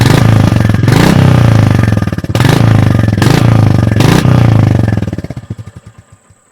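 A Royal Enfield Goan Classic 350 thumps loudly at close range, its single-cylinder beat rising in several sharp throttle blips before dropping back and chugging down to a slow, uneven idle that fades out.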